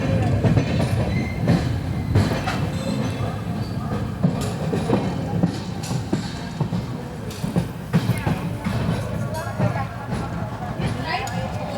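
The Mumbai–Amravati Superfast Express 12111 runs along in a continuous rumble with rattling carriage noise and scattered clacks and knocks, while voices talk over it throughout.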